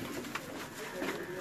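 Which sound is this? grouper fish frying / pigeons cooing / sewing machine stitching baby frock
pigeons cooing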